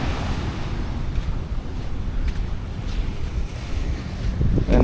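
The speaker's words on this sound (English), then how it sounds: "Let's go to the ocean." Ocean surf rolls onto a beach in Nha Trang, Vietnam. A steady, close wash of waves runs throughout, with wind buffeting the microphone, a swell near the end and no talking.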